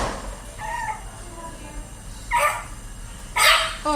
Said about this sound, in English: It's a Chihuahua.